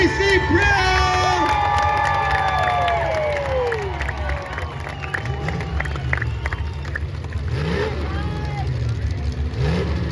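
A grandstand crowd cheers for driver Casey Brown at the Amador County destruction derby as car engines rev and roar nearby. The cheering and engine noise are loud and constant, with voices talking over them.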